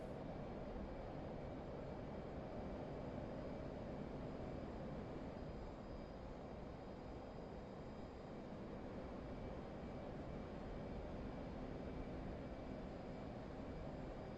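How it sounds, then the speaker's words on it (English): F/A-18 jet in a flight game roaring on afterburner while climbing, a steady broadband engine roar held at an even, moderate level without talking. "Still an afterburner"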